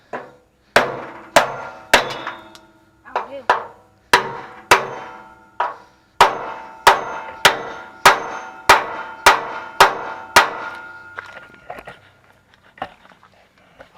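A hammer strikes rivets to drive them out of a Chevy C10 frame during a rear suspension drop, about sixteen loud, sharp metallic blows in an uneven rhythm, close up, with short ringing decays and no talk.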